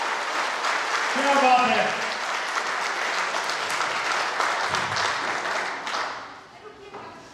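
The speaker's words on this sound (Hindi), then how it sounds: "जबरदस्त ताली सत्येंद्र सर के लिए" Applause for Satyendra sir fills a gathering in Panchet, steady broadband clapping running throughout, with a voice speaking over it briefly near the start and the clapping thinning toward the end.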